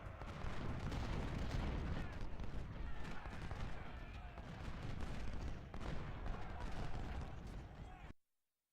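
Snipers firing in a Civil War strategy video game battle, Confederate side at Washington: a dense, continuous rolling crackle of rifle volleys mixed with booming artillery for about eight seconds, then cut off abruptly into silence.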